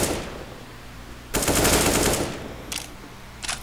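Gunfire in the shooter CS:GO: a sharp automatic burst lasting about a second, followed by two short, quieter bursts, with no talking over them.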